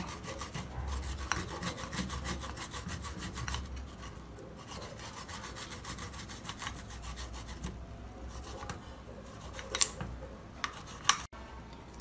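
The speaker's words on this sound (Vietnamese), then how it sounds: "Xong gừng rồi thì chúng ta lại bào đến tỏi." Garlic being grated by hand on a kitchen grater, a continuous rhythmic rasping and scraping that runs steadily throughout at close range, with a few sharper clicks near the end.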